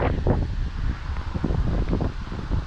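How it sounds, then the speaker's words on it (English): Steady gusting wind roars across the microphone outdoors on a walk in Lewiston, Maine, a loud continuous rush with faint rustling underneath. "You can see it's quite windy today."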